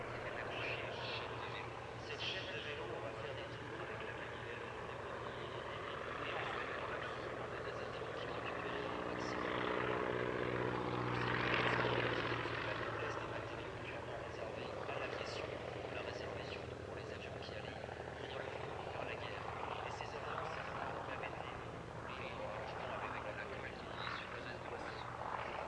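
French-built Stork aircraft with aluminium wings and newer engine flying at the Air Legend 2024 airshow, a faint propeller drone that rises and fades as it passes, with a voice speaking over it.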